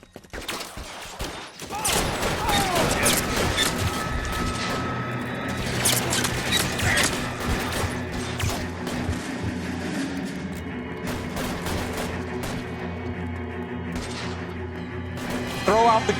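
Rapid, dense gunfire from a police shootout in LA Noire, with repeated overlapping shots and crashes sustained at close range throughout, mixed with game voices speaking underneath.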